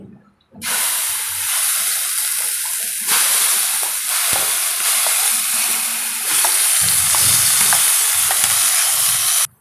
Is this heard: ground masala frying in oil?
yes